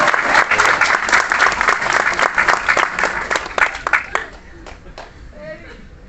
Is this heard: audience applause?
yes